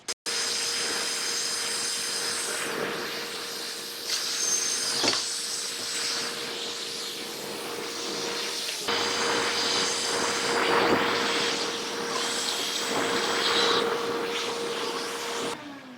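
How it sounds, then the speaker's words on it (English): A 5/16 drill bit bores through a tube on an Old Town canoe during a retractable wheel install, giving a steady, loud whine that runs almost without a break, with brief dips at a few points. "Grab your 5/16 drill bit."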